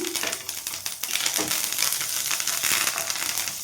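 Fresh curry leaves hit hot tempering oil and sizzle loudly, a continuous crackling hiss with rapid sputtering pops, unbroken by speech.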